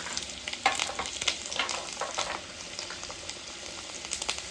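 Ginger paste hits hot oil with ground spices in a pan while cooking a spicy boal fish tel jhal curry. A steady close sizzle and frying hiss run throughout, with scattered sharp pops and crackles.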